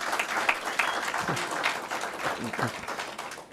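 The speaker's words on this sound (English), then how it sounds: "A round of applause to Mr. Fletcher, yes." Audience applause at an opening ceremony, a sustained patter of many hands clapping with a few louder individual claps, while a voice talks faintly over it.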